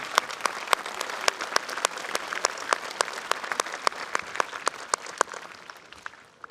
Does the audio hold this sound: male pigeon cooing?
no